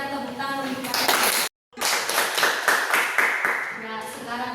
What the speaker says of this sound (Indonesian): Berikan tepuk tangan untuk Aris.